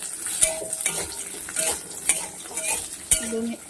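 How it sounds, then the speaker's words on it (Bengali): Thinly sliced potato fries in a pan, with a steady sizzle under repeated clinks and scrapes of a utensil stirring the slices. "একটাই আলু নিয়েছি এখানটায় এটাকে ভাজবো"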